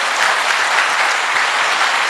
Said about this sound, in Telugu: సార్కి ఒకసారి క్లాప్స్ ఇవ్వండి